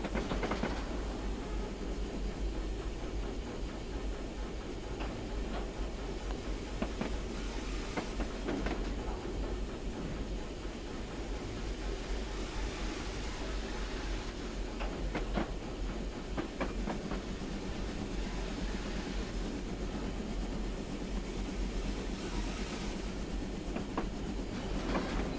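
A B1 steam locomotive runs on the Great North of Scotland line, giving a continuous rolling rumble with a clickety-clack wheel rhythm and occasional louder clanks, steady throughout with no voices.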